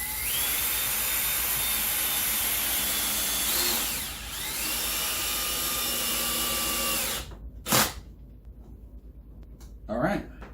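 A power drill drives screws into a wooden arcade cabinet riser, whining with rising and falling pitch in several long bursts, then stopping, followed by two short clattering thumps, close and loud.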